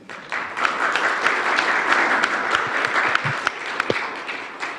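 An audience at a Jeju forum session on Korea–Japan relations claps in warm, sustained applause for the visiting high school students, a dense crowd of hand claps that swells quickly and holds steady before tapering.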